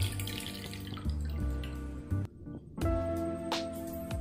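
Soaked tamarind squeezed and dissolved by hand in water for a rasam, giving soft, close sloshing and splashing with short drips and pauses, quiet and alone.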